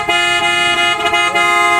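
An aftermarket PIAA dual horn set on a 2024 Ford Ranger Raptor sounds in a steady, continuous honk, loud and close, holding a bright multi-tone pitch with a slight wobble.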